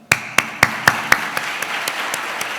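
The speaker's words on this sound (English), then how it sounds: "I'd like to give a big round of applause to 3 people in particular" Claps at a Year 13 graduation ceremony at Parador de Golf: about ten evenly spaced, sharp hand claps, the first five crisp and loud, the rest softer and fading. No other sounds accompany them.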